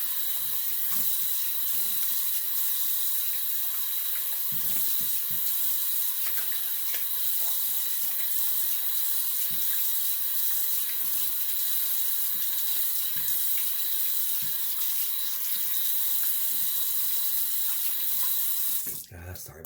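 A tap runs steadily into a sink while a face is rinsed after shaving, a continuous close hiss of flowing water with faint splashes, then a brief clatter at the end.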